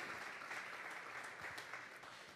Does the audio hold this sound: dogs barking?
no